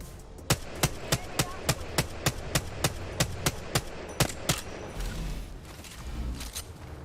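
Gunfire in the shooter game Apex Legends: a rapid string of about fifteen sharp, evenly spaced shots in quick succession, then a short lull with softer game noise and no talking.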